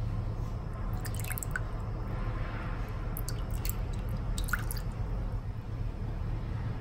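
A few tablespoons of water go into a bok choy stir fry, giving soft wet drips and squishing sounds over a low steady cooking hiss, quiet and close with no talk.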